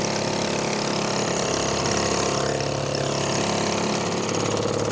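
Vintage small outboard motor on a fishing boat idles steadily while warming up, a loud, continuous close-up buzzing drone with no talk.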